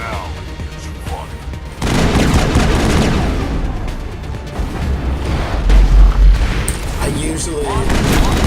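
Gunfire in the sci-fi shooter game Mass Effect: a dense, sustained crackle of weapon shots and booms beginning abruptly and continuing under game noise, with a voice speaking briefly at the start.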